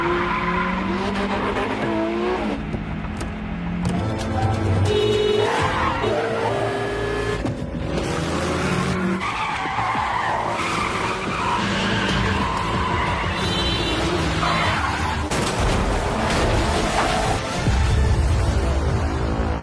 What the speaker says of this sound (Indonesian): mobil itu akhirnya kehilangan kendali dan menabrak area konstruksi